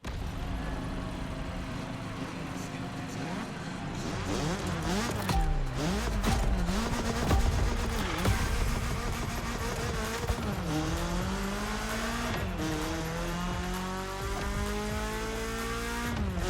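A BMW M3 in The Crew Motorfest racing game, engine revving through rising and falling gear shifts with tire squeal, loud and continuous throughout.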